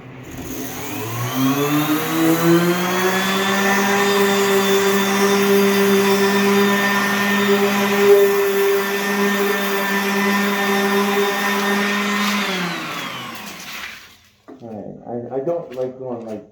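An orbital sander on final passes over a surface with 150-grit paper spins up, holds a loud, steady motor whine for about eleven seconds, then winds down, after which a person speaks.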